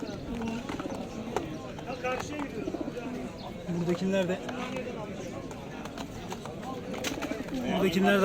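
Pigeons cooing among a crowd at an outdoor bird market, soft repeated coos layered under constant nearby chatter and footsteps, with people talking throughout.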